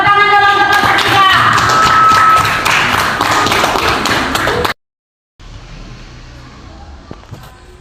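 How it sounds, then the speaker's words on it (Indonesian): A classroom of students claps for the presenting group, a loud dense patter of hands filling the first several seconds before cutting off, followed by a quiet room with faint murmur. "Tepuk tangan dulu untuk kelompok 3."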